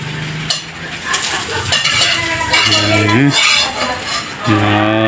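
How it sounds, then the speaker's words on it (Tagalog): Eggs scrambled in a sizzling frying pan, steady crackling fry with utensil stirring and scraping against the pan, while voices talk over it throughout. "Ang bilis niya magluto ng itlog guys."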